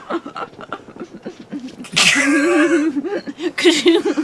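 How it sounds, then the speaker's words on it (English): Speech is interrupted by a sudden loud, explosive sneeze blending into a cough-like burst, then talking resumes close to the mic. "I just sneezed kind of and coughed at the same time"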